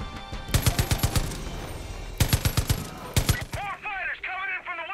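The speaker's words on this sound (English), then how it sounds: "We got a mounted machine gun on the west?" Bursts of automatic machine gun fire in the video game Far Cry 5, loud rapid rattling volleys in three separate strings, followed by warbling electronic game sounds.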